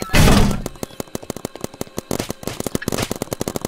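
A minigun in a video game fires a long, rapid stream of rattling shots that opens with a heavy boom, dips briefly, then pounds on in a steady, loud rhythm.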